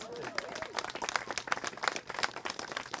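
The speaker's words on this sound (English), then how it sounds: "let's give Tommy a round of applause" Faint applause from a small audience welcoming a local legend named Tommy after a talk, a light patter of claps with a voice heard briefly at the start.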